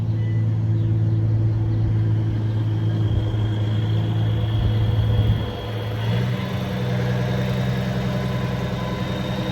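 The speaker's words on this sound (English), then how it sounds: "Watch this boy back up" A professional driver's truck, fitted with a new bumper and step, backs up with a steady, loud, low engine rumble and a droning tonal hum that shifts slightly partway through.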